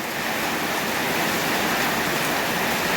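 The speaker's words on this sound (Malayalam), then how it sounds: "മലപ്പുറം ജില്ലയിൽ നല്ല മഴയാണ് ഗൈസ്" Dense, steady hiss of heavy rainfall with strong wind, loud and unbroken, with a constant rushing wash of gusts.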